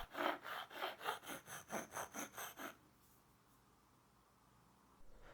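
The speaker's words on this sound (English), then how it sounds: "I'm refining the shape with a rasp, bringing it down to the lines and trying to true up those angles" A hand rasp shapes a wooden swimbait body in about ten rhythmic, even scraping strokes up close, then stops, leaving near silence.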